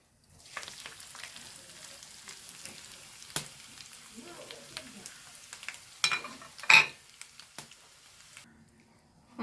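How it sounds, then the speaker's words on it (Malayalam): A quiet, steady sizzle of coconut dry-roasting in a pan, broken by occasional sharp clicks and scraping taps of a utensil against the metal. "ഇനി ഞാൻ നാളികേരം വറുത്തെടുക്കട്ടെ"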